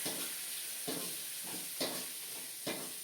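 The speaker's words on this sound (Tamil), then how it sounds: "பச்சை மிளகாய் மாங்காய் இதெல்லாமே அதில் போட்டு நல்லா ஒரு லோ ஃப்ளேமில் வச்சு வதக்கிட்டு" Green chili and mango sautéing over a low flame, giving a soft, steady sizzle broken by regular scraping stirs about once a second, fairly quiet and close with no voices.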